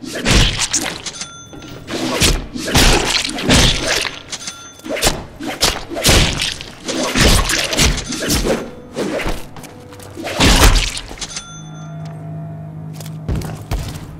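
Melee combat in a Deadpool game: a rapid flurry of loud thuds, whacks and slashing hits in irregular bursts, some with a shattering edge, fading to a low hum near the end.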